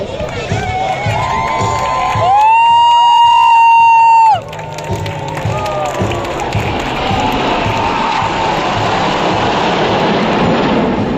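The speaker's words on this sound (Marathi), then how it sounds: "विमानांचं प्रात्यक्षिक पाहताना पुणेकरांनी केलेला जल्लोष पाहण्यासारखा होता" A large crowd in Pune roars and cheers in a continuous, loud din at a fighter-jet air show, with a sustained tonal whine rising briefly above the noise early on.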